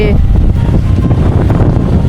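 Strong wind gusting across a campsite in Kanchanaburi, a loud, steady low rumble of buffeting air on the microphone with no clear break throughout.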